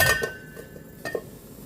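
A metal lid clanks onto a cooking pot of chicken tinola: a bright clink at the start, a softer rattle shortly after, then a second small clatter as it settles, close and otherwise quiet.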